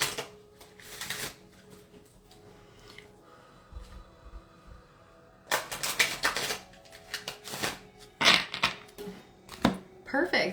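A stack of tarot cards is shuffled by hand in several quick riffling bursts, close and crisp, with quieter pauses in between and a faint hum underneath.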